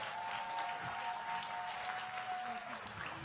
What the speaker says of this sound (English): Please give it up and keep clapping until she makes it to the stage.